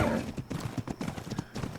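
Hooves of a horse clip-clop in a quick, uneven rhythm in the survival game Ark Survival Evolved on the Ragnarok map, close and moderately loud, with no talk over them.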